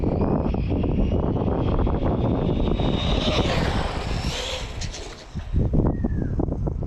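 A Losi 22S RC short course truck on 4S power runs at full throttle, its motor giving a loud, continuous high-pitched whine with gusting wind noise. The whine dips briefly near the end, then surges again.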